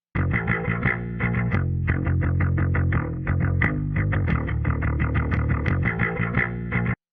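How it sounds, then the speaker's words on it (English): An electric bass plays a busy, rhythmic line of plucked notes, steady and unaccompanied, with a slightly driven, gritty tone. "So here I've got a bass guitar line"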